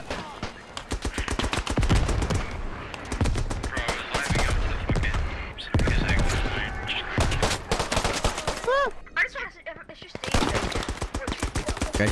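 Rapid bursts of machine gun fire in the World War I shooter game Beyond The Wire, sharp rhythmic volleys repeating close and loud through the whole stretch, with a brief gap midway.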